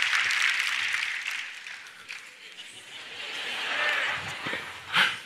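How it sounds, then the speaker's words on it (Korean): A church congregation at a New Year blessing revival service applauding, a broad wash of clapping that swells loudest at the start, fades, then rises again briefly, with voices mixed in. "우리 박수 한번 쳐주시기 바랍니다"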